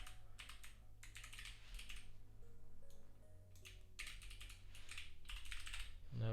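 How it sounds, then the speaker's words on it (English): Quiet computer keyboard typing comes in irregular bursts of rapid key clicks with short pauses, close to the mic over a low steady hum. "now that I'm typing on the keyboard I'm used to"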